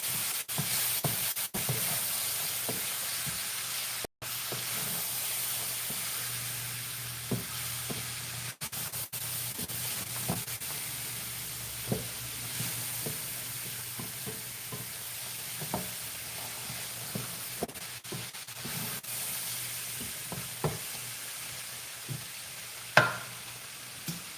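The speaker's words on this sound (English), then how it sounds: "Just keep stir frying the veggies." Vegetables for fried rice sizzle steadily in a hot pan while being stir fried, a continuous hiss broken by scattered scraping and stirring clicks, close and moderately loud with no talking.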